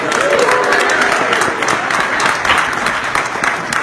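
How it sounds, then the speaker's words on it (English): A crowd applauding at GaryCon, a tabletop role-playing game convention, dense sustained clapping filling the room, fairly loud, with some voices mixed in. "Let's give them all a round of applause."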